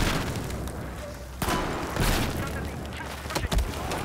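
Sniper rifle fire in Battlefield 4: a few sharp, booming shots crack out at uneven intervals against a dense, noisy battlefield background, with no talking.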